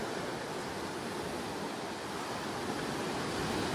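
Black Sea surf washing onto a beach in summer, a steady broadband roar of waves with wind, continuous and fairly close, no voices.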